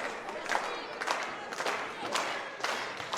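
Crowd in a Squared Circle wrestling video game: a noisy arena roar of cheering and clapping swells in waves at moderate volume with no clear talk.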